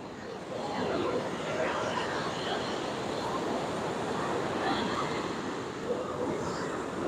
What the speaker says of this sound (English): The wind is moderately uncomfortable northwesterly, more northeasterly than westerly.